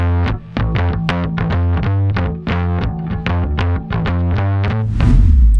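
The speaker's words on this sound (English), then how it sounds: "the main plugin that I used for this bass track was a distortion plugin called Little Tube" A gritty, heavily distorted bass run through the Waves Little Tube distortion plugin plays a repeated riff, thick and saturated, with no voices.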